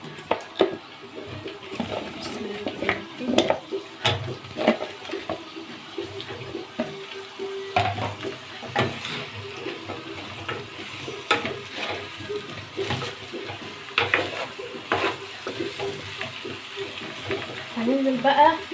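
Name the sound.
potatoes frying in pan with onion and chicken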